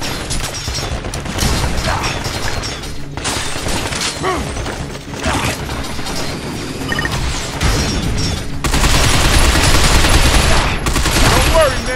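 Sustained automatic gunfire in the futuristic shooter Binary Domain, with dense bursts of rapid shots, crashing impacts and mechanical clatter over a long stretch. Voices shout briefly amid the fire.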